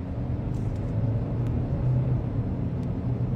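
A mid-size SUV engine revving at about a third throttle in sport mode, climbing to around 4,000 RPM. It gives a steady, close, low droning rumble from inside the cabin with slight rises in pitch and no talk.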